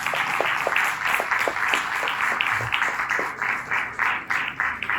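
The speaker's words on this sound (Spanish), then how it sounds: "Dale un fuerte aplauso al Señor esta mañana." Congregation in church applauding the Lord at a morning service: rhythmic, fairly even clapping in unison, repeated beats over about five seconds, with a murmur of voices beneath.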